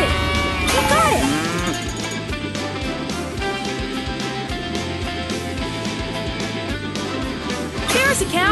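Cartoon cows moo repeatedly in a Paw Patrol farm scene, with drawn-out lowing calls over lively background music and sound effects, loud and close throughout.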